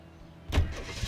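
A car engine turns over and catches in the video game L.A. Noire, a single short burst of starter and engine rumble after a near-silent lead-in, then a low running hum.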